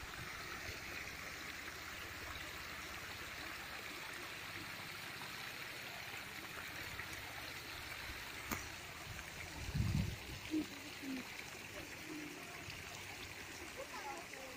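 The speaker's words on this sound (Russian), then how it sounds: "с нее прямо сразу идут ручейки" Small streams trickle beside a path and run into a lake, a steady, soft running-water wash throughout with a brief louder splash or bump near the end.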